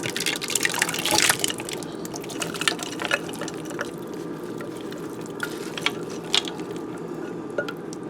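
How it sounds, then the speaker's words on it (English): Diced potatoes and ham are stirred into a bowl of whisked eggs, milk, salt and pepper, producing continuous wet sloshing and squishing with scattered light clinks of the spoon against the bowl. "I am just mixing all of that up and into my egg mixture."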